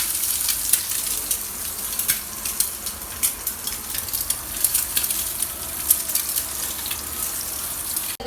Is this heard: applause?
no